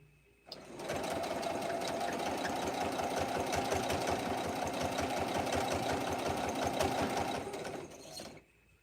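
A sewing machine stitches rag quilt blocks in one continuous run of rapid rhythmic needle clatter and motor hum, close and steady for about seven seconds before stopping.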